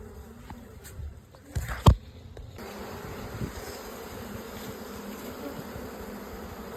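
Bees at a disturbed hive buzz in an agitated, steady drone, with a close loud pass or bump around two seconds in, and no talking.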